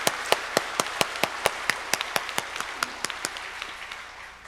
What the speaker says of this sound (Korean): 우리 그 하나님께 마음을 담아서 감사와 영광의 박수 올려드리도록 합니다.